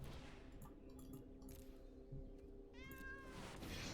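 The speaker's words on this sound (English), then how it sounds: "Shut up, cat." A house cat meows near the microphone during computer gameplay: a single drawn-out, rising meow in a quiet room with a faint electrical hum underneath.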